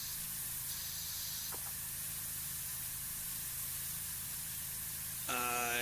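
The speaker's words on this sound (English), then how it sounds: "I hate the soap nozzle. It does nothing without the soaps." Soap nozzle spraying in a pressure-washing video game, a steady loud broadband hiss running the whole time, with a brief tonal game sound near the end.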